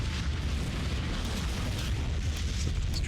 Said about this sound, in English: Bombing of London. Runway cratering.